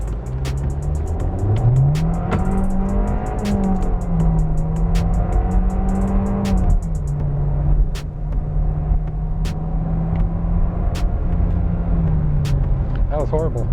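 A Volkswagen Jetta MK7 in sport mode pulls hard from a launch, its engine note climbing and shifting through gears with a loud, steady in-cabin rumble and road noise; people talk over it.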